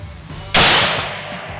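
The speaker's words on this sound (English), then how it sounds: "getting the gun sighted in, shooting her at 50 yards" A single sharp, loud rifle shot cracks out at a shooting range during sighting in at 50 yards, followed by a short fading echo.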